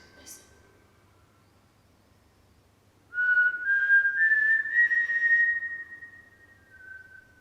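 A clear, sustained whistled tone coming through a device rises and holds for a few seconds, thin and slightly electronic, after a quiet stretch, in a large old UK mansion.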